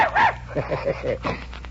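A dog gives a run of short, breathy yips and huffs in an uneven rhythm that resembles laughter, fairly close and moderately loud, with a voice faintly mixed in.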